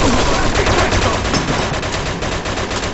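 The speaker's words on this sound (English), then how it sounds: "Looks like we found the machine gun!" Dense, loud machine gun fire from the video game Mafia 2 rattles continuously in a rapid, unbroken burst for the full three seconds, with no pauses.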